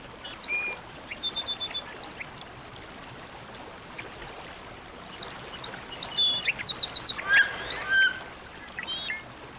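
Wood ducks calling at a beaver pond in the Rocky Mountains, with short high squeaky whistles and rapid chirping bursts scattered over a steady trickle of water.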